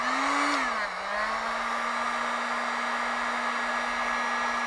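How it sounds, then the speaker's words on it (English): Heat gun switched on and blowing, a steady whirring fan hum with a brief pitch dip as it spins up, then a constant airy rush throughout. "This is my heat gun. And let me turn it on."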